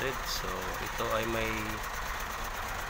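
A Hino 700 truck's diesel engine runs rough and uneven at idle, a steady throbbing drone with irregular knocking, close by, while someone talks over it throughout.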